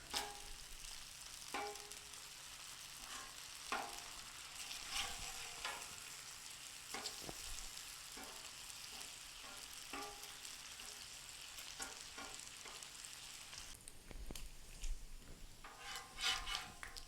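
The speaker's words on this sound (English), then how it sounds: "So I'm gonna flip the rest of these bacon over" Bacon sizzles and crackles steadily on a 28-inch Blackstone griddle, faint and continuous, with occasional scrapes and taps of a metal spatula as pieces are flipped.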